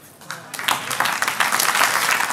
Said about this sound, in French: un tonnerre d'applaudissements pour Charline